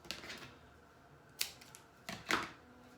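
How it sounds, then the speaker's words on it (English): Scissors snip through strips of iron-on bonding paper while making DIY peek-a-boo Dollar Tree T-shirts: a few sharp, close cuts spaced irregularly over a quiet background. "So let me cut the strips."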